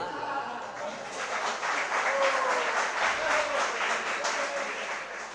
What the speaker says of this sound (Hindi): सर्दी के समय पर तालियों की आवाज़ कम आती।